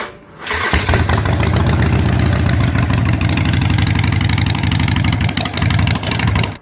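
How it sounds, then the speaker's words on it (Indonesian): A Harley-Davidson V-twin cruiser motorcycle engine starts and settles into a loud, close, lumpy idle that pulses steadily for several seconds before cutting off. "motor ini juga terkenal dengan mesin V-twin yang memiliki cc besar dengan torsi RPM rendah yang sangat melimpah dan tentunya suara khasnya"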